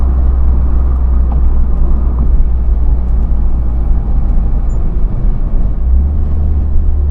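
A fuel-injected, turbocharged classic Mini Cooper drives along a hill road, its engine droning loud and steady from inside the cabin with constant low rumble and road noise.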